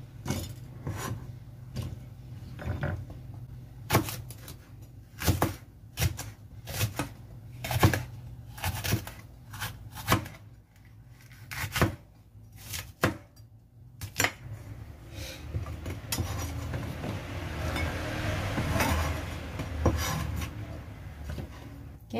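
A knife slices green chili diagonally on a cutting board, giving a run of sharp irregular chops and taps with brief pauses, close and fairly quiet, then a soft rustling.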